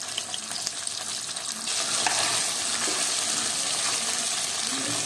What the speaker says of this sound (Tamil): கொஞ்சமாக ஆயில் விட்டு நம்ம வறுத்து எடுத்துட்டோம்னா அந்த வளவளப்பு கொஞ்சம் கம்மியாகும்.